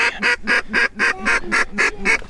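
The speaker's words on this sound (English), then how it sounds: "We got ducks everywhere." A run of loud, evenly spaced duck quacks, about eight in quick succession, close by and with no talking, during a duck hunt in the Sandhills.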